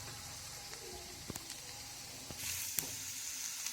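Vegetables for Hakka noodles fry in a pan, a soft steady sizzle with a few light clicks of stirring, fairly faint and close, growing a little louder toward the end.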